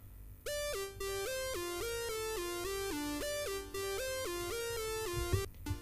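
A bright, buzzy synth from a SID emulator imitates the Commodore C64 chip sound, playing a quick stepping arpeggio melody of rapid repeated notes for several seconds, loud and alone.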